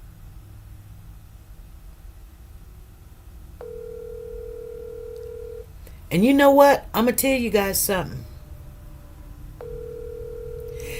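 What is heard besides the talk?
phone calling tone while dialing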